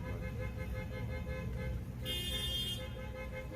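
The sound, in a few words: car horn honking on the street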